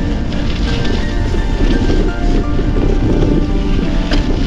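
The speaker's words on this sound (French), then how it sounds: "Le vent est prononcé" Strong wind buffeting the microphone on a broad, exposed path of a cyclocross course during a pre-race reconnaissance ride at Saint-Genis-les-Ollières, a steady loud roar with gusty low rumble throughout and no talk.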